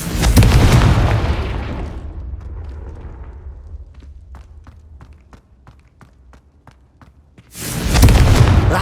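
Fiery spell blast from Hogwarts Legacy, a loud booming burst that decays into crackling, then scattered footsteps before a second heavy explosion erupts close by.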